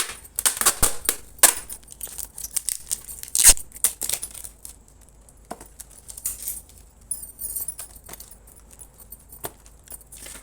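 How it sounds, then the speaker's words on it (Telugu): Packing tape is pulled and pressed across a small cardboard box holding a bracelet order, with repeated ripping and crinkling bursts, close and irregular, alongside handling rustles. "దీనికి కూడా 4 సైడ్స్ టేప్ వేస్తున్నాను."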